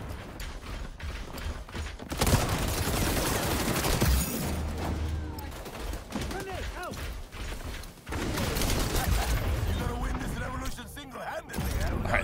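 Gunfire in the first-person shooter XDefiant rattles in dense bursts through a loud, busy battle mix, with sustained shooting stretches broken by brief lulls.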